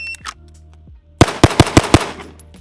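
Six rapid pistol shots from a SIG P211 GTO crack out in a tight, evenly spaced string, loud and close, after a quieter lead-in with faint background tones.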